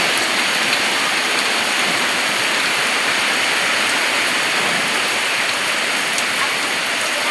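Heavy rain pours down in Mapua in a dense, constant hiss, loud and close, with no break or other sounds.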